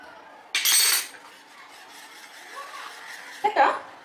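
Dhokla batter is whisked with refined oil in a bowl, giving two short bursts of clattering, scraping strokes with a quiet pause between them.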